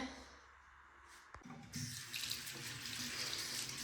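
A bathroom faucet is turned on for brushing teeth, and after a brief quiet start the water gushes steadily into the sink, close and continuous.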